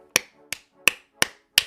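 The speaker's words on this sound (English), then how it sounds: "I got to clap on that one, y'all, because that is bomb." A single person claps five separate times during a sermon, sharp isolated hand claps spaced about a third of a second apart, close and crisp against a silent background.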